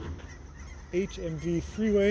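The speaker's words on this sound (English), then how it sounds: "the geese that are flying up above here" Geese flying overhead, a few loud honks in quick succession against outdoor background noise; a voice speaks briefly beneath them.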